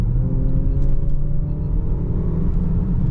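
A car's engine hums with a steady low rumble from inside the cabin, smooth and continuous with no sharp revving.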